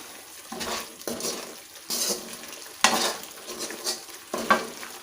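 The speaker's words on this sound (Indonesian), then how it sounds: "kita aduk" Seasoning paste stirred in a hot pan for ayam golek, a spoon or spatula scraping in repeated strokes over a steady sizzle, close and fairly loud with no talking.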